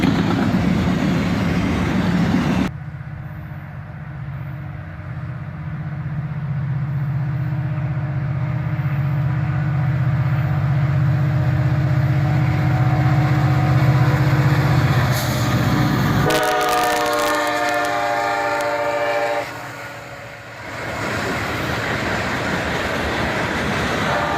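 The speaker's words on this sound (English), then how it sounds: "This auto rack drop is led by an sd90mac." An auto rack freight train led by an SD90MAC locomotive rumbles past with a heavy, steady roar, then sounds a loud horn blast of several seconds before the rolling noise continues.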